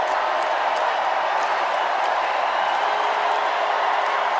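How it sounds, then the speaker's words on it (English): Long, steady applause from a large audience at an evening political convention, a continuous even wash of clapping with some cheering mixed in, unbroken from start to finish. "I love the long applause."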